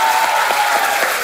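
A studio audience applauds a singer on a Gujarati comedy talk show, with loud, dense clapping that fills the whole short stretch evenly and has no break.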